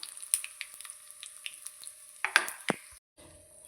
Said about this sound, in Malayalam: വെളുത്തുള്ളിയും പച്ചമുളകും ഒക്കെ നന്നായി മൂത്ത് വന്നിട്ടുണ്ട്.